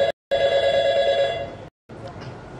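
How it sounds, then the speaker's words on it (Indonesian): An incoming call on a phone-in health program about relaxation and reflexology sounds as a steady electronic ringing tone, loud and clear, cut by short silent gaps before a softer tail. "Ada telepon masuk"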